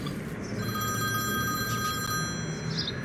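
Telephone bell ringing steadily indoors, a continuous bright trilling ring that holds for a few seconds with no talk over it.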